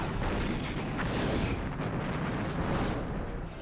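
A starship's quantum singularity drive blowing up during a Star Trek starship battle game, a dense, sustained roaring blast that fills the whole moment at steady loudness before easing slightly at the end.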